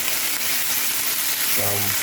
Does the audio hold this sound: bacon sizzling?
yes